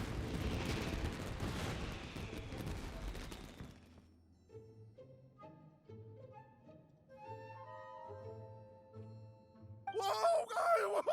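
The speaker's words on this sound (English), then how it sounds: "Yoimiya, this is turning into a bit of a fireworks display" Fireworks burst in Genshin Impact, a loud crackling, booming barrage for the first four seconds, then quieter tonal game music and chimes before another bright crackling burst near the end.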